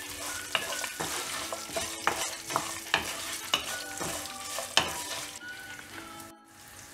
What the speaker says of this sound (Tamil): புளி நல்லா ஆட் பண்ணிட்ட உடனே நல்லா ஃப்ரை பண்ணி விடணும்.